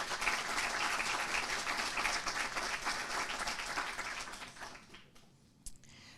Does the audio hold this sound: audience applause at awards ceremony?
yes